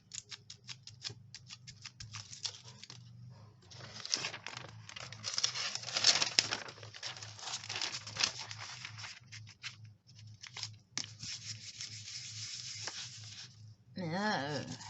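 Aluminium foil is handled and crumpled at close range in crisp, crackling bursts with quieter pauses between them, while a hum runs underneath and a voice briefly speaks near the end.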